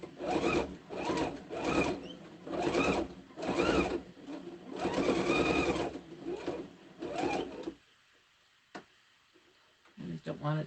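Sewing machine basting a quilted hot pad, rapid stitching in short, rhythmic bursts with brief pauses, close and moderately loud, a person talking alongside, then a pause before it starts again.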